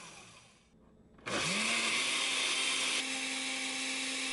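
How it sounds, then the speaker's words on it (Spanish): A kitchen blender starts up loud and steady after a brief quiet pause, its motor whirring continuously while blending chili sauce for a Mexican keto caldillo. "licúo durante unos segundos, apago la licuadora y vuelvo a licuar"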